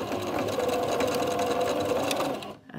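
A sewing machine runs steadily, close and loud, as it stitches across the handle of a fabric glasses case, its rapid, even whir holding for a couple of seconds before stopping abruptly.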